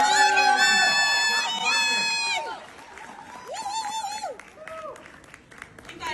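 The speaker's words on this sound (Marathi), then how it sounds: "जोरदार टाळ्या" At a Filmfare award ceremony, a crowd applauds and cheers for Namrata Sambherao, with shrill whistle-like tones riding over the clapping. The noise is loud at first, then thins and fades.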